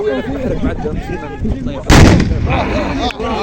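Volley of gunpowder rifles fired together at an equestrian fantasia, a single sharp, loud blast bursting out over crowd chatter and shouting, then fading back into the crowd noise.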